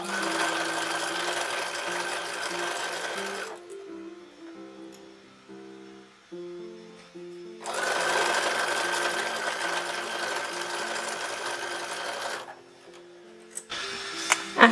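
A sewing machine stitches a tuck on a 1930s-style toddler dress in two long steady runs of rapid mechanical whirring, separated by a quieter pause, with no talking.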